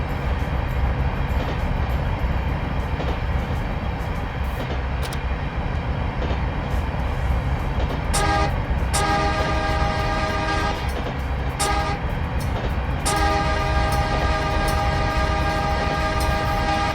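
Sacramento Northern train running in Train Simulator 2017, with a steady loud rumble of the locomotive throughout and repeated horn blasts sounding in the second half, some short and one longer.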